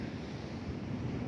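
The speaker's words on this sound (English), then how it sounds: "It's so windy, my dude right here is hanging on for dear life" Strong wind blows across a beach during a big storm, a loud continuous roar buffeting the microphone, with surf rumbling underneath and no pauses.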